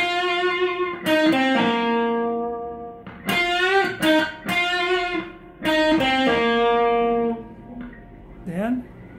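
Electric guitar playing a song, a string of bright plucked notes with a pull-off, in short phrases separated by brief pauses and ending with a quick bent note.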